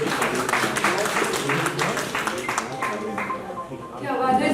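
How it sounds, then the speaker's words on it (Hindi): An audience at a Hindi literature festival in New Delhi claps steadily and fairly loudly, with a voice talking over the applause near the end. "जोरदार तालियां हो जाए"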